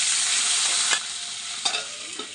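Green chillies sizzling in hot oil in a pan, a loud continuous hiss with a few short scraping stirs of a spatula.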